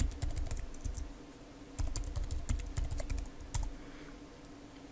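A password is typed on a computer keyboard in quick, irregular clusters of crisp key clicks, recorded close with steady background hum and short pauses between bursts.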